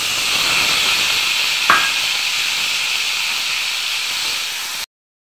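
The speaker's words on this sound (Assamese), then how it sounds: "আলু আৰু স্কোৱাছো মই অকণমান ভাজি ল'লোঁ" Boiled potatoes and squash frying in a little oil in a pan after fenugreek seeds were spluttered, giving a steady close hiss and sizzle with one brief clatter.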